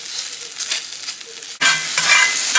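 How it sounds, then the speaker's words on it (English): Pork dropped into a very hot skillet bursts into a loud, steady sizzle partway through, following a quieter stretch of background frying, and the hiss stays strong to the end with no talking. "Put my pork inside there. You can hear that skillet's really hot."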